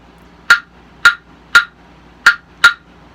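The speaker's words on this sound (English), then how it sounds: "Just 2 pieces of wood struck together." Five sharp wooden clicks, bright and dry, struck at an uneven pattern with short gaps, close and alone.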